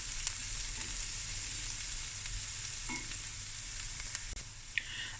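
Onions frying steadily in a pot for a Cape Malay meat and sago stew, a soft continuous sizzle with a few light clicks of stirring, fairly quiet and with no talking.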